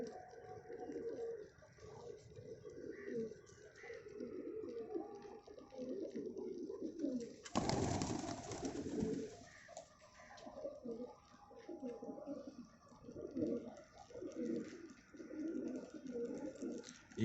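Pigeons coo softly and repeatedly in a pigeon loft, low rolling calls in an ongoing murmur, with a brief burst of wing flutter or rustling midway and someone speaking now and then.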